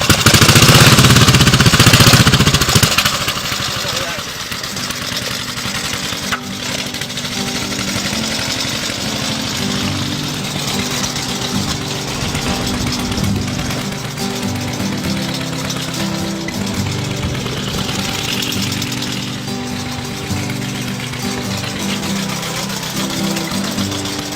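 An old single-cylinder Harley motorcycle runs with the exhaust cutout open, a loud, steady mechanical chugging and rattling that holds constant for the whole stretch after a louder start.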